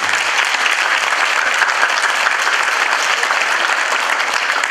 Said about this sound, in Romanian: ia uitați cum vă aplaudă de oameni